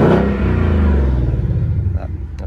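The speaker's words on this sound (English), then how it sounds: "Let's give it a bit of a rev here." A silver 2018 Ford Mustang GT with a 5.0-litre V8 revs up close, a loud, deep rumbling roar that swells and then gradually settles back down.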